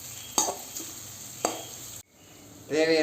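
Short bursts of crackling and popping as mustard seeds fry in hot oil, a couple of sharp stirring clatters, then a louder sizzle near the end.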